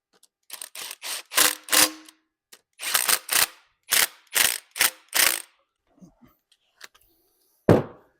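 A ratchet clicks in quick bursts while snugging down exhaust manifold bolts on a 6.0 Powerstroke engine, several rapid runs of sharp ratcheting separated by short pauses, close and crisp with no talking.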